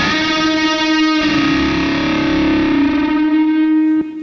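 A Friedman Handwired 100-watt guitar amp rings out a sustained distorted chord, thickened by stereo chorus and trailing reverb, loud and alone before a sudden cutoff near the end.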